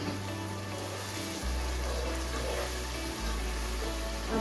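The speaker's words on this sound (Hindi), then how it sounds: "अब हम इसमें थोड़ा सा पानी" Water poured into cooking masala in a pan for mash ki daal, a steady close rushing pour with a constant low hum underneath and no speech.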